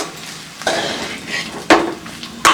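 Leftover rice being stirred into a tamarind mixture in a pan, with a spoon scraping and clanking against the metal in three sharp strokes over a quiet background.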